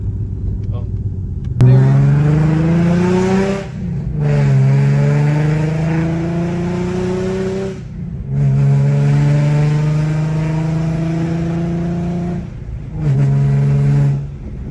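A loud Infiniti G35 engine revs repeatedly, climbing in pitch with each blip and dropping back between pulls, close and roaring, with brief gaps between revs.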